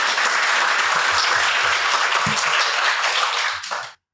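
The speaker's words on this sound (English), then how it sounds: "A round of applause for James." An audience applauds James after he tells a tale, with dense, steady clapping that holds for about four seconds and then stops abruptly.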